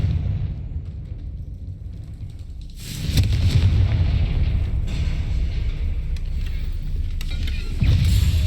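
Confringo fire spell explosion in the video game Hogwarts Legacy, a sudden loud burst after a quieter rumbling lead-in, followed by sustained crackling, booming low roar and another surge near the end.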